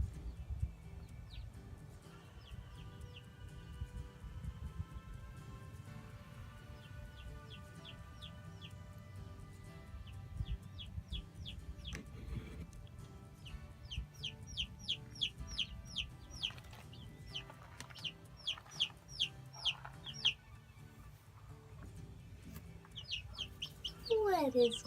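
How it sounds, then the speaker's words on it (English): Baby chicks peep in a chicken coop with many thin, high chirps scattered throughout, growing busier and more overlapping toward the end over a low background hum, with faint speech. "Hear them chirping."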